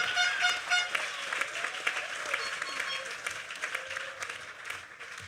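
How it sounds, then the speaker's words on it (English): An audience at a technical school graduation ceremony applauds, sustained dense clapping with some whistles or shouts mixed in, fairly distant and easing slightly toward the end. "Let's give her another round of applause."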